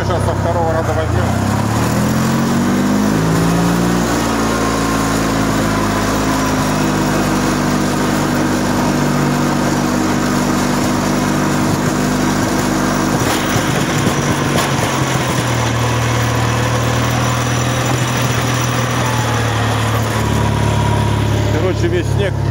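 A KMZ-012 mini tractor engine runs loud and close while clearing snow, its steady drone rising in pitch early on and shifting lower later as the load changes, with someone speaking over it.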